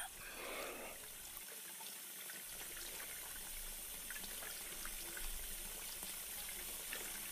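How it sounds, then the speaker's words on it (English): Running tap water rinsing hair during a gentle hair wash, a faint steady wash of water flowing and splashing close by, continuous throughout with no voices. "I'm just gonna start rinsing again."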